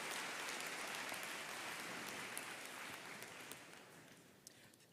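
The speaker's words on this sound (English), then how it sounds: "another round of applause" Graduation ceremony crowd applauding, a dense steady wash of clapping that stays loud through most of the stretch and gradually thins toward the end, with no voices over it.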